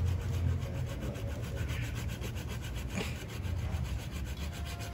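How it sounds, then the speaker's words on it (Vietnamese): A pull-stroke hand saw rasps steadily through bonsai tree wood in repeated strokes, close and continuous, with no voices. "Cưa này cưa kéo nha con, chứ không phải cưa đẩy nha"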